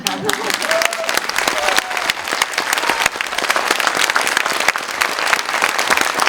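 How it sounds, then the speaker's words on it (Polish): Long, sustained applause from a theatre audience after a performance of the play "Judy", dense, even clapping that fills the room without pause, with a few voices briefly audible at the start. "I teraz te długie brawa"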